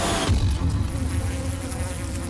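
Bees buzz in a dense, droning swarm at close range, a steady low hum with no other sounds.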